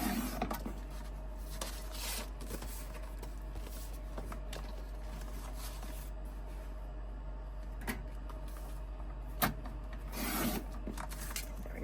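Paper being trimmed for a December Daily scrapbook cover, with soft rubbing, scraping cuts at intervals and a few sharper clicks over a low steady hum, close and quiet.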